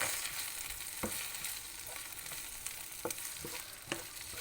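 Chicken, noodles and vegetables sauté in a large frying pan used in place of a wok, with a steady close sizzle and occasional clicks and scrapes of stirring.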